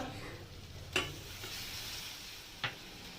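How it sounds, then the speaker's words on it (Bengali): Mango pieces sautéing in a pan with turmeric, chili powder and mustard paste, a broad steady sizzle with two brief spatula clicks against the pan, close and moderately quiet. "এবার এটাকে কষাতে হবে আমটাকে হলুদ আর লঙ্কার সঙ্গে।"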